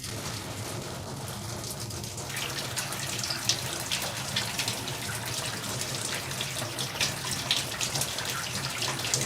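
Water runs steadily from a tap, a continuous splashing rush that keeps going for several seconds, close and fairly loud.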